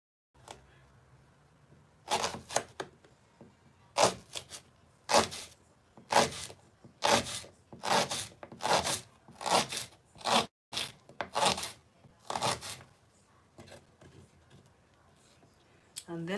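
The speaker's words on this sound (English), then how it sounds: "So I will cut my onion also again into half." A knife chopping an onion on a board, a series of sharp, close cuts coming in irregular bursts, some quick and some spaced apart, against a quiet background.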